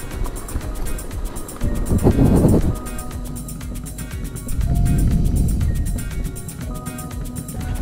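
Motorcycle engine on a dusty hard enduro dirt trail, droning steadily throughout with two louder surges where the rider pushes harder, and wind noise over the top.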